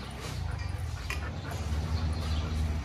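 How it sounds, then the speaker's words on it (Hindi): A dog growls low and continuously at close range, with a few whimpering notes and some faint human sound in the background. "देखो गुर्रा क्या"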